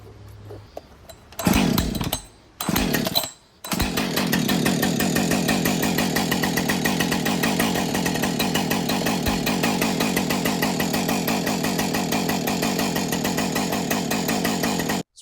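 A Husqvarna 562XP Mark II chainsaw with a new piston and cylinder sputters through a few pull-start attempts, then catches and runs steadily at a loud, close idle for the rest of the clip.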